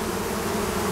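A close, steady hum of bees buzzing around a hive trap, an even drone with no voices.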